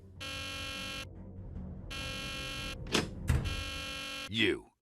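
A harsh buzzing alarm sounds in a Nancy Drew game, with two long evenly spaced blasts separated by a gap, then a couple of thuds and a final sweeping electronic tone.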